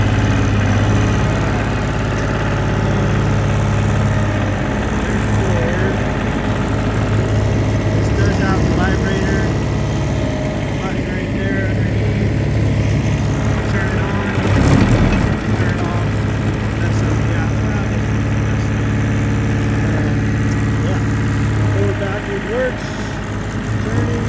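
A Rammax 48-inch smooth drum diesel roller idles steadily up close, its low engine drone swelling briefly when the throttle is raised, while a person talks over it.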